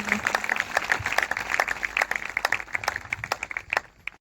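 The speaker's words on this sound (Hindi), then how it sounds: "जोरदार तालियों से प्रभु की महिमा करेंगे" Loud applause from a church congregation, a dense run of sharp claps that rises and falls for several seconds before thinning out at the end.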